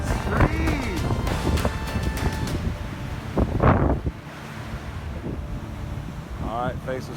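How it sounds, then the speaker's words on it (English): Strong gusting wind by a river at Humbug Bar blows across the microphone in rumbling bursts throughout, with someone talking over it and some clattering in the background. "Still windy as a mother."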